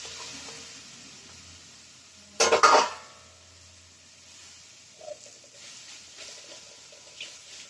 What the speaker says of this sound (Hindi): घी हमारा गर्म हो चुका है और ये जो मिश्रण है इसको इसमें डाल देते हैं